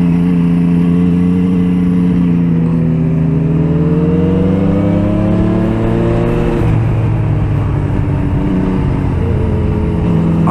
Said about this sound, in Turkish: Motorun açısı çok fena yatıyor.